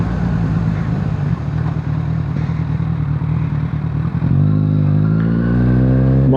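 Kawasaki Z1000 naked motorcycle engine, a rough close idle that swells into a rising rev, its pitch climbing steadily over the final couple of seconds.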